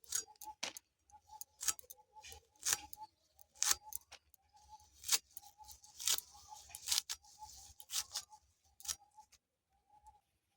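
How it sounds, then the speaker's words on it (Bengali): Red lote shak, a leafy green, being cut into long pieces with a blade, producing a series of sharp, quiet chopping taps in an irregular rhythm, close by, with faint birdsong in the background of a village kitchen. "লম্বা লম্বা করে কেটে নিচ্ছি।"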